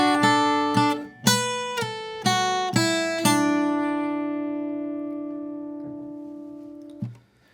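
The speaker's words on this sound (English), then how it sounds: "Now onto the third phrase of the B part." Acoustic guitar playing the third phrase of the B part of the old-time tune Ducks on the Millpond: a quick run of about seven plucked notes, then a long ringing sustain before one last soft note, played alone.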